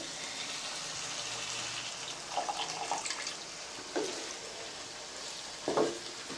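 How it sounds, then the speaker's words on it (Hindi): Half a cup of water poured into frying moong dal in a pan, a soft hiss and sizzle with a few brief splashy bursts and spoon clinks, close up and without speech. "अब हम इसमें आधा कप पानी ऐड करेंगे"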